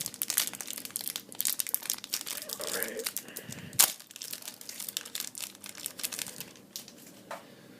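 Yu-Gi-Oh card pack wrappers crinkle and tear up close in a quick run of crackling foil sounds with one sharp rip, while a person talks in the background.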